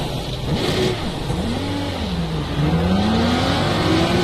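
A race car engine in a video game revs and shifts at the Catalunya circuit, its pitch rising and falling steadily, loud and continuous with no talking.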